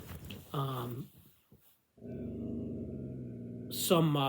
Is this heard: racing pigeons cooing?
no